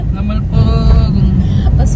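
A car drives along a road, its low, steady engine and tyre rumble running beneath a person talking close by throughout.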